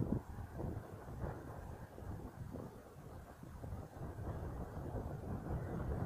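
Strong wind blowing in cold May weather, a steady broadband rush with gusty swells that stays moderately loud throughout, with no voices.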